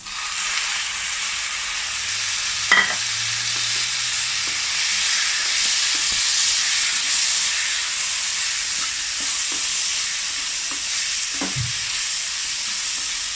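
Chopped tomatoes frying in a pan for spicy chicken pasta, a loud, steady hiss of sizzling oil close by, with a scrape or two of stirring. No one talks.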